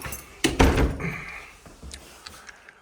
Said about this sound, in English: Nice solid door though